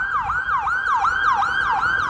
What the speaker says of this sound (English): The ambulances are out in force.